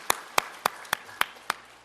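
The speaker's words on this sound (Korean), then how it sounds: "격려의 박수 한번 보내주시기 바랍니다" Six sharp, evenly spaced claps ring out in a church service, a sparse round of applause of encouragement for the praise team, fairly faint and with no talking over it.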